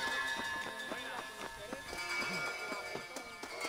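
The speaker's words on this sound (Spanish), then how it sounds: "Y ahí llamo al caballo" Horse in the Red Dead Redemption video game galloping in after being called, with soft rhythmic hoof clip-clops repeating under game music and low-level talk.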